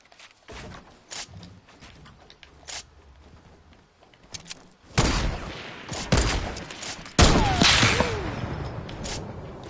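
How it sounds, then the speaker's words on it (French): Game gunfire from a turret in Fortnite: scattered sharp shots at first, then dense rapid volleys of loud bursts with ricochet-like whistles, close and overwhelming. "C'est la nouvelle tourelle, Maxence."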